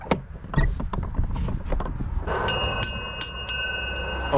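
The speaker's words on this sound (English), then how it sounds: "Old school doorbell." An old-school doorbell at a house on a parcel delivery route rings with a bright metallic ring struck about four times in quick succession, after some shuffling and handling noises nearby.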